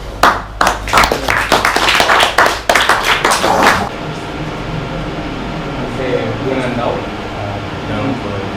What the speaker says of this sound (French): Déjà, il faut l'applaudir.